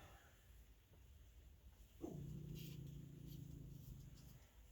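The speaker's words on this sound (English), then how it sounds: "You can hear her growling. That's my dog barking at trees." A dog growls faintly in the distance, a low rumbling tone that starts suddenly and holds for a couple of seconds in a quiet setting.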